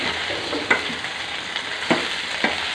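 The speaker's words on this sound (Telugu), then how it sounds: "క్యారెట్ ముక్కలు వేసి కొంచెం మగ్గిన తర్వాత బంగాళదుంప ముక్కలు వేసుకోండి ఈ బాగా కలిపేసి" Carrot and potato pieces frying in a pan with a steady sizzle, broken by a few sharp scrapes of stirring; no one speaks.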